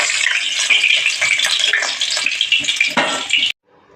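Rui fish pieces fry loudly in hot oil, a dense close crackling sizzle with scraping of a utensil in the pan, cutting off abruptly near the end.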